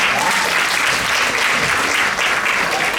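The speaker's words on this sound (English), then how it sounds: "Please give a round of applause to them." A large audience at a cultural festival in Houston gives a round of applause for performers, sustained thick clapping filling the whole stretch at a steady, loud level with no talking over it.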